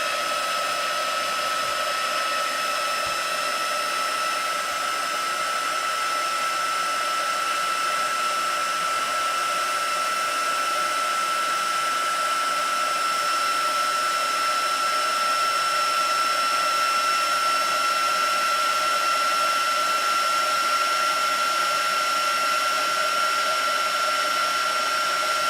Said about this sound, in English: I'm going to do some heat embossing.